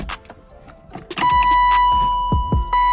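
A car engine cranks and catches after the key is turned, rising into a loud steady run with a few revving surges, close by.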